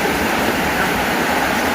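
Water streaming down from a hillside, a loud continuous rushing flow, close and steady with no pauses or speech.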